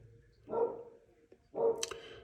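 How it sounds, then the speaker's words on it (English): Dogs barking upstairs in a house, two muffled woofs about a second apart, moderately loud with a room echo and no talking. "My dogs are getting a little excited upstairs."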